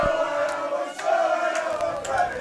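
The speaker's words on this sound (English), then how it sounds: "the Fremington crowd have come alive here at the county ground. They are making all sorts of noise" The Fremington crowd at the county ground roars and shouts after a goal in a women's senior cup final, a sustained noisy swell of many voices with occasional louder peaks.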